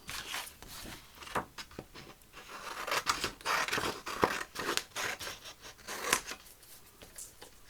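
Scissors cutting paper ephemera for a Christmas journal, a close, irregular run of crisp snips and rustles of paper.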